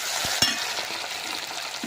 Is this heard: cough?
no